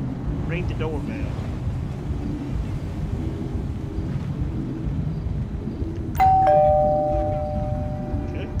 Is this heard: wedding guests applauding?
no